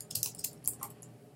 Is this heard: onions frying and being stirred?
no